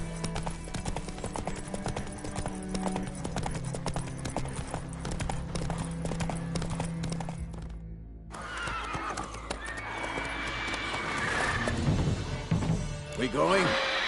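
Horse hooves clip-clop in a steady galloping rhythm in The Witcher 3, loud and continuous, with a neigh, a crash and game music and effects building toward the end.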